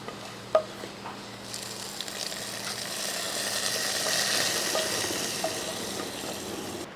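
Hot spiced tempering poured into a Kerala-style parava fish curry with green mango, giving a steady, moderately loud sizzle that swells midway and lingers, with a few faint clinks near the start.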